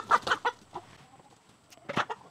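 A rooster clucks in a few short, close bursts, with gaps of quiet between them.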